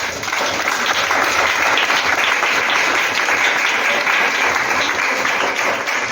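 A church congregation applauds in a dense, sustained wave of clapping that holds steady throughout, filling the room.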